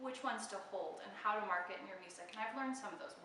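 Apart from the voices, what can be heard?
None of the usual background noises is heard.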